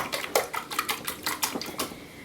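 A utensil clinks and scrapes rhythmically against a bowl as eggs are whisked with salt and pepper, with quick repeated strokes and no talk.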